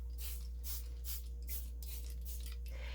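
Coffee sprayed from a spray bottle onto paper, a run of short soft hissing puffs in a quick uneven rhythm, close and faint against a steady low background hum.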